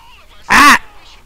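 A player's voice squawks in imitation of a crow over GTA V heist chat: one short, loud, harsh caw standing out from quiet background.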